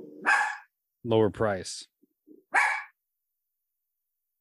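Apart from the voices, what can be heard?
dog barking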